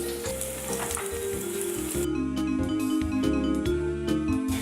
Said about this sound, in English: When the oil is hot enough, we'll put the salmon in